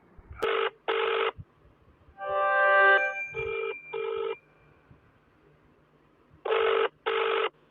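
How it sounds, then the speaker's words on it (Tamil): A telephone rings with an electronic ringtone in short paired bursts separated by pauses, with one longer warbling tone in the middle, close and clear in a quiet room. "சீக்கிரம் ஃபோன் எடுங்க பாஸ்"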